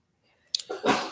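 A single short sneeze bursts out close by after a brief intake of breath, a sharp sibilant puff followed by a breathy release, with no talk.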